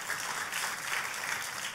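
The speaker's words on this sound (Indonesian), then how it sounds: "Kita kasih tepuk tangan." Applause from a church congregation during a Christian sermon, a dense, steady patter of many hands clapping across the whole stretch at moderate level, with no clear talk.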